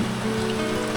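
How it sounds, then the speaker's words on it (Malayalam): Heavy monsoon rain in Kerala, a dense continuous roar of downpour with no gaps, loud and even throughout. "മഴയെന്ന് പറഞ്ഞാൽ പെരുമഴ."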